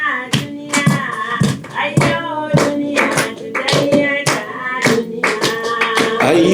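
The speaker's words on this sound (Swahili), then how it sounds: "Piga mikono tuimbe, piga mikono." Hands clapping in a steady rhythm at a pastor's funeral in Rhode Island, the sharp claps loud and regular under a group singing together.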